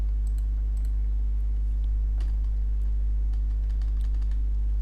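Soft scattered keystrokes on a computer keyboard while text is typed, irregular light clicks over a loud constant low electrical hum.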